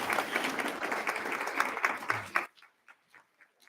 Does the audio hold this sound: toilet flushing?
no